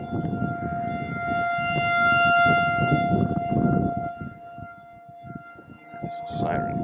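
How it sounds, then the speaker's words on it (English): A tornado warning siren drones steadily in the distance on a golf course, a thin sustained wail under loud nearby chatter and laughter. "It's a siren if I've ever heard one."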